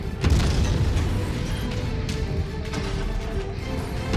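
A mech's torso is blown off in MechWarrior 5, with a heavy boom at the start that trails into a rumbling, crackling wash of debris and mechanical clatter.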